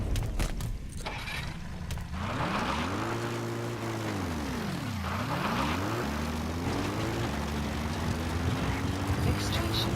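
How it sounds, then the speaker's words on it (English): Support helicopter in Metal Gear Solid V: The Phantom Pain flies in, its rotor and engine drone rising and falling in steady sweeping pitch, loud and continuous throughout under game background noise. "Support helicopter."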